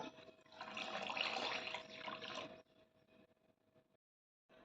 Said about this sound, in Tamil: ஒரு கிளாஸ் தண்ணியை ஊற்றிக்கலாம்